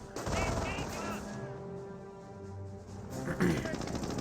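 Machine-gun fire rattles from a bunker in the Company of Heroes battle, sitting as a steady mid-distance backdrop beneath continuous talking.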